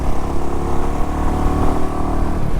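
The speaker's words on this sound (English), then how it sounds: "It's got very good sound for a little bike" A small Royal Enfield motorcycle engine running nearby, a loud, steady, throbbing idle with a low rumbling pulse and no speech.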